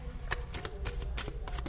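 Tarot cards are shuffled and drawn by hand close up, a quiet run of quick, crisp flicks and slaps in uneven bursts with no voice.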